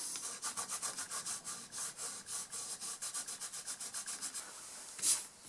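A gum eraser rubbed briskly back and forth to scrape wax resist off watercolour paper, a quiet close-up scratchy swishing in an even rapid rhythm, ending with a brief brushing sweep.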